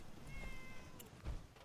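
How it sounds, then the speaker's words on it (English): A pet cat named Maisie gives a short, soft meow near the microphone, followed by a faint thump in an otherwise quiet room. "She literally meowed no."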